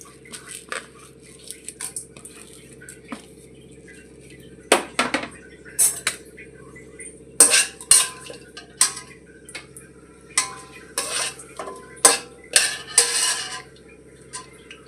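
Whole biryani spices tossed into a hot kadai and stirred for prawn biryani: sparse metallic clinks and taps of a utensil against the pan, picking up into clustered bursts midway, close and fairly crisp.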